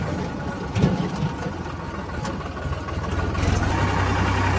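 A tractor engine runs steadily on a village farm, a continuous low mechanical drone at moderate distance that grows slightly louder toward the end.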